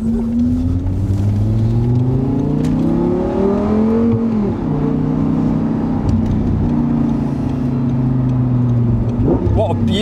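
A powerful Audi R8 GT Spyder V10 engine revs up and down at high pitch, loud and close, while a voice speaks briefly under the roar.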